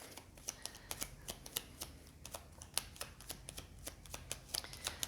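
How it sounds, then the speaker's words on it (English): Close, quiet crisp flicking and snapping of playing cards being shuffled and drawn from a deck, a quick irregular patter of sharp clicks with no talking. "let's pull out some cards as always."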